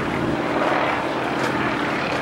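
An aerobatic propeller airplane climbs for altitude at the NAS Oceana airshow, its engine giving a loud, steady droning roar throughout.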